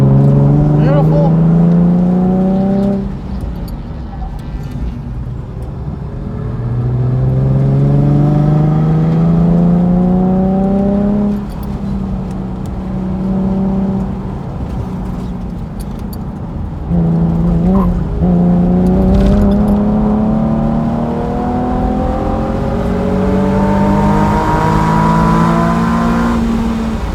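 A car at a high-performance driving event at ImportAlliance runs hard on track, its engine repeatedly climbing in pitch through each gear with sharp drops at upshifts. The sound is loud and close, from inside the car.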